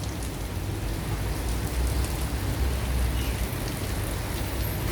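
Heavy rain pours steadily in Port Louis, Mauritius, a dense, constant hiss of drops hitting surfaces close by, with no talking.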